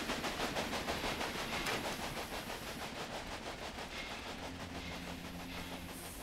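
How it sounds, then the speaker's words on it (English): A video game train in Railway Empire rumbles along steadily with a rhythmic clickety-clack, fairly loud and continuous, with a faint low hum appearing toward the end. "The train goes left, as he's supposed to."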